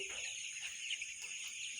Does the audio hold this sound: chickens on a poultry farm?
yes